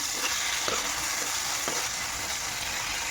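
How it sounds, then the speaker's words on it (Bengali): Whole spice masala with ginger juice sautéed in a pan, giving a steady loud sizzle with a couple of soft scraping stirs. "সম্পূর্ণ মশলাগুলো কষায় নিচ্ছি"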